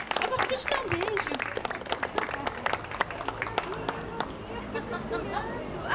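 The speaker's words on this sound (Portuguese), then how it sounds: "Adriana, mais palmas" Audience applause for Adriana Barbosa at a Perifa Talks festival event, a crowd clapping in a sharp, scattered rhythm mixed with cheers, excited voices and chatter, fairly loud and close throughout.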